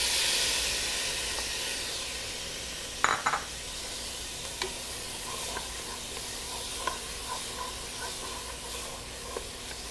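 Chopped tomato dropped into a hot pan with spiced oil and coriander powder, a sharp burst of sizzling and clatter followed by steady frying hiss and small pops, close and fairly loud, no talking.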